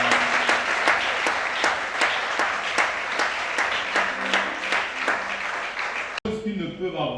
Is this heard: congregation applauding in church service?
yes